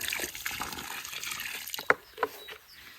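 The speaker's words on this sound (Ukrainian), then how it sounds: "Наливаємо і чекаємо, щоб вона трохи туди" Kornevin root stimulant solution, the same one the rose soaked in, is poured around a freshly planted rose, trickling and splashing steadily with a couple of brief louder gushes near the end, close by and without talk.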